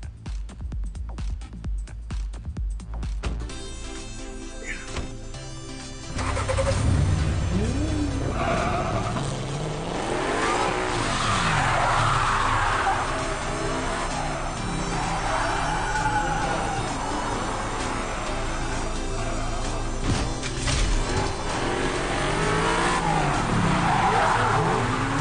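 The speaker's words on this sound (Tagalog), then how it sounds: "Sinama kita mag-drift." A car drifts hard, tires skidding and squealing in long repeated wails over a loud, steady engine roar that stays close for most of the stretch after a quieter start.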